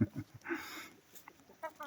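Free-range village chickens let out to graze on fresh green grass after rain give a few soft, scattered clucks close by, short and intermittent against a quiet background.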